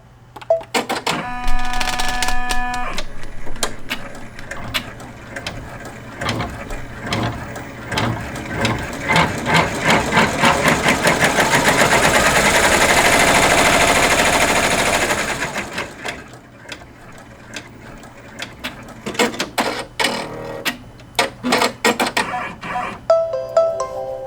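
Embroidery sewing machine stitching out a calico quilt block, rapid mechanical needle clatter building into a steady loud run, then slowing into short bursts of stitching and beeps, with no talking.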